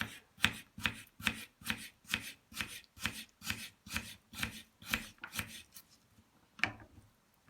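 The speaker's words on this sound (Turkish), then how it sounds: "Birkaç yerinden bu şekilde kesikler atıp küçük küçük doğrayalım." A knife chops potatoes rhythmically on a cutting board, about a dozen crisp, evenly spaced strikes, then a pause and one final chop.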